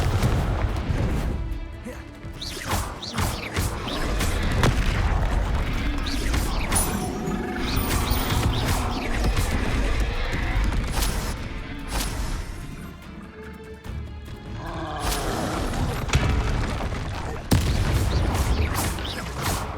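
Confringo blasting spells going off in Hogwarts Legacy combat, a dense, loud run of booming blasts, crashes and mechanical clatter with sharp impacts near the start, middle and end, no voices.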